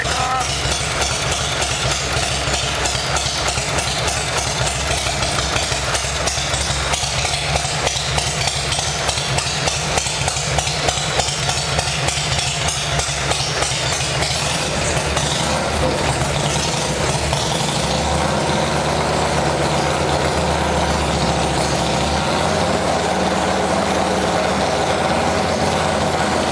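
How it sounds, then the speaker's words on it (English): A 1970 Harley-Davidson engine idles with a loud, continuous rapid thumping close by, the beat shifting and loosening in the second half as the carburetor runs dry. "Turn the fuel off and let the carburetor run out."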